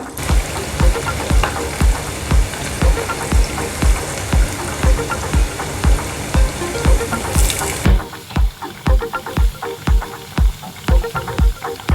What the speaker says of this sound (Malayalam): ഇനി നമുക്ക് ബാക്കിയുള്ള ബീഫിനെയും കൂടെ ഇതുപോലെ ഫ്രൈ ആക്കി എടുക്കാം.